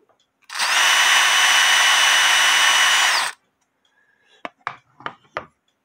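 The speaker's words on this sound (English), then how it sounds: "Q-tip cut in half and my drill." A power drill whirs steadily for about three seconds, spinning a half Q-tip to clean holes in a wooden clock movement plate, then stops, followed by a few light clicks and taps.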